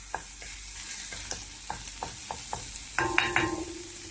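Cooked food being pushed to the side of a hot pan, a series of sharp spatula taps and scrapes over a light sizzle, ending in a louder burst of scraping, close up and with no talking.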